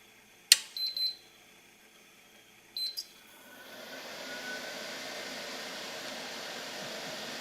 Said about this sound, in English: So, let's turn the inverter on, and this whole thing will be run in a continuous loop.